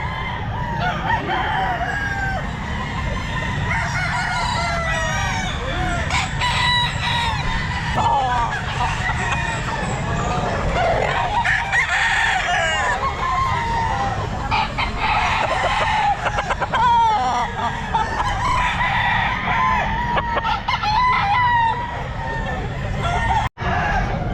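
Gamecock stags, including Kelso birds, crow repeatedly at the Grotto pet market, their loud calls rising over a dense, continuous crowd din with people talking nearby.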